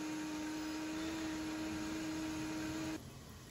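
A juicer or blender runs steadily with a high whine while blanched wheat sprouts are juiced, then abruptly switches off and leaves only faint room noise.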